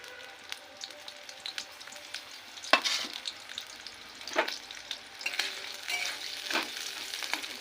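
Chopped onions and chillies sizzle in hot oil, a crackling fry punctuated by louder bursts and stirring scrapes, with no talking.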